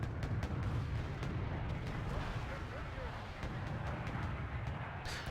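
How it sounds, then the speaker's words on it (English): Incoming artillery fire in Wargame Red Dragon: dense, continuous low rumbling blasts with sharp cracks scattered throughout, a heavy battlefield barrage, with a voice speaking underneath. "And now I'm receiving artillery"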